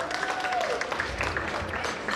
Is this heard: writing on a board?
no